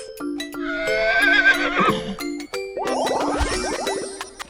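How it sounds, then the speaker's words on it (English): A horse whinnies loudly and close up over a cheerful children's learning jingle with bell-like tones, the neigh rising and then breaking into a shaky, quavering descent. "Horse."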